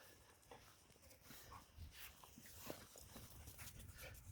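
A puppy pants softly in quick, breathy bursts outdoors on a beach, faint and close against wind and surf noise.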